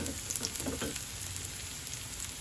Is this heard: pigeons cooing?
no